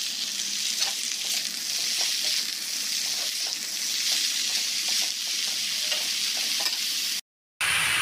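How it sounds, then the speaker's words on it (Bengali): Thick-cut banana flower pieces and potatoes go into a hot wok and fry with a loud, continuous sizzle and hiss close by. Light stirring scrapes run through it, and a short silent gap comes near the end. "এবার কলার ভাড়ালিগুলো সব কড়াইতে দিচ্ছি।"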